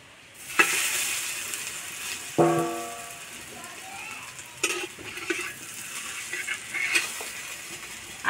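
Food fries in a little oil in a pan, with a soft sizzle broken by sharp clinks and scrapes of a utensil against the metal and a few louder knocks.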